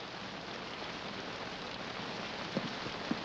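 Heavy rain pours steadily in a film scene, a dense, even hiss with no pause, joined by a couple of faint knocks near the end.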